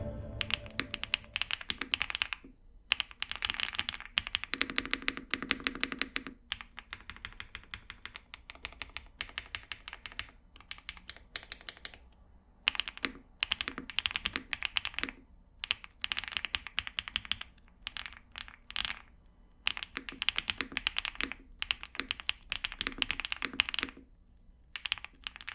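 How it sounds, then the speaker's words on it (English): Rapid typing on a mechanical keyboard with double-shot PBT Cherry-profile keycaps, crisp close clacks in fast bursts separated by brief pauses, with no talking. "this keyboard with these switches do sound phenomenal"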